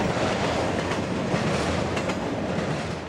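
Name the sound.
CSX freight train passing at Folkston, Georgia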